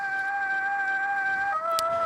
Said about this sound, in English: Now we have this lead, which is this Gameboy patch.